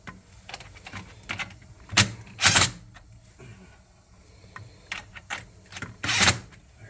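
A hose clamp being tightened on a washer drain line, sharp clicks and clacks heard close in irregular bursts, some single and some in quick clusters, with quiet pauses between them.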